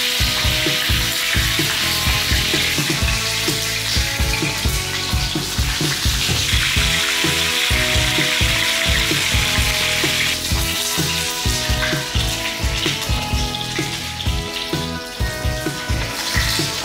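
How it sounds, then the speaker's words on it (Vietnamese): Continuous loud sizzling and crackling of chicken frying in hot oil over high heat, steady and close, with no voices. "Khi rán thì mình cần lửa lớn, mình chiên con gà cho nó nhanh"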